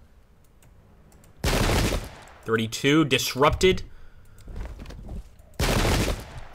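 Musket volleys from massed infantry in the Pike and Shot video game, set in the 1798 Irish Rebellion at Vinegar Hill. Two loud crackling bursts of gunfire, each about half a second long, fall several seconds apart, with someone speaking in the gap between them.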